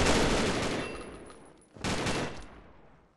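Rapid gunfire in the shooter game Combat Arms, two loud bursts of automatic shots split by a brief gap, close and dense with a long decaying tail.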